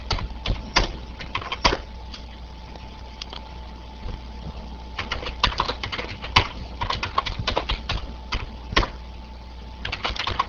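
Irregular bursts of key presses on a computer keyboard, quick clicky taps with short pauses between words, close and moderately loud over a faint steady electrical hum.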